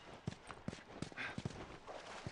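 Horse hooves clip-clop at a steady walking pace in The Last of Us, roughly six distinct hoof strikes landing close and clear over a quiet game backdrop.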